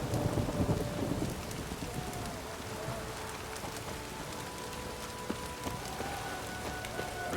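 Steady rain falls in The Witcher 3, a dense even hiss with scattered droplet ticks and a faint tonal hum underneath, at moderate level without talk.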